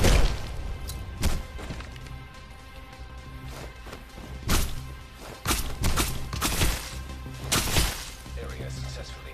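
Pipe bomb blasts in the Roblox video game, a string of sharp crashing bangs and thuds spaced every second or two, loud and close, with game noise and a voice talking in between.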